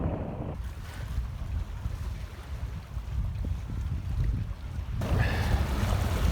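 A small boat's engine kicks astern while setting the anchor, a low rumble under steady wind and water noise, rising in the final stretch.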